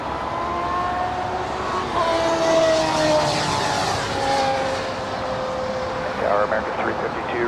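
An airliner takes off from runway 25 left at LAX at night, its engines a loud steady roar with whining tones that drift downward, while radio voices talk over it.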